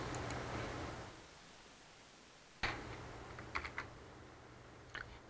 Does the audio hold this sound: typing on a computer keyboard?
yes